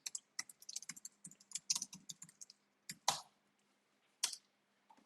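Typing on a computer keyboard, irregular bursts of sharp key clicks with short pauses, close and fairly quiet, no talk.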